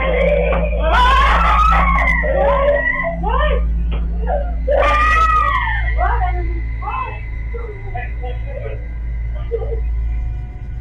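A girl screams and wails during a night-time panic attack, with long rising and falling cries, loud and close, over a steady low hum.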